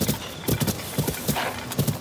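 In Zelda: Tears of the Kingdom, a burning horse's hooves clip-clop loudly and close, in quick paired beats that repeat at a steady gallop.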